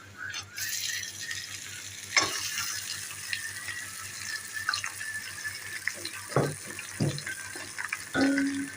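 Mawa roasts in a pan with chilies and cumin, giving a soft continuous sizzle broken by scraping and clinking stirring strokes that are sharper near the end.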